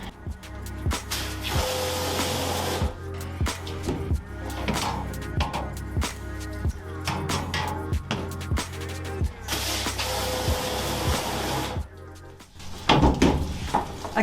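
Water spray rinsing emulsion out of a screen-printing mesh screen, a steady loud hiss running almost continuously, with brief breaks and shifts as the stream moves across the frame, plus a few knocks near the end.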